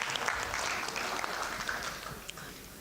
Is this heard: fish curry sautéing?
no